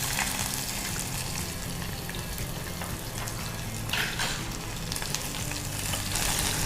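Sliced onion frying in a pan, a dense, steady sizzle throughout with a few crackling bursts and occasional soft scrapes, close and fairly loud with no voices.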